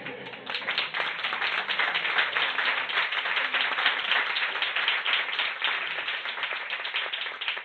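An audience applauds at the close of a lecture on economic history, a dense, even patter of clapping hands lasting several seconds at moderate level, no voices over it.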